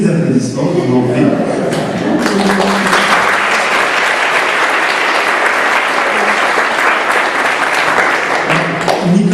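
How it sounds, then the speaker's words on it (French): An audience claps loudly and steadily at a round table event on solidarity economy, sustained close applause lasting the whole stretch, with a few voices and light chuckles mixed in at the start. "Attends, Nicolas, excuse-moi d'avoir coupé les applaudissements"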